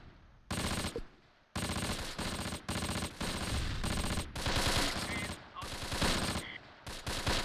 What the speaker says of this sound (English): I hear rifle fire.